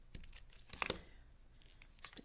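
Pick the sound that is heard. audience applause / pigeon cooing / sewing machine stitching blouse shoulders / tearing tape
tearing tape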